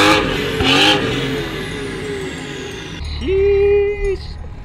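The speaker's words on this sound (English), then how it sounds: "All right, Rob, give it some complimentary revs." A widebody F30 car engine is revved hard once it is warm, loud and close, with a rising roar and a sharp blip near the end before it settles.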